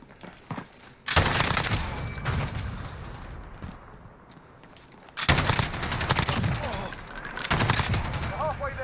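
Bursts of MG5 7.62 machine gun fire in Call of Duty Modern Warfare, two long loud stretches of rapid automatic shots separated by a quieter lull, with battle noise between.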